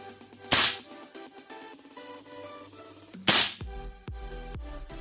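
Two loud, sharp cracks from a black Kimber R28 gas pistol, about three seconds apart, each with a short ringing tail, over a steady background of musical tones and clicks.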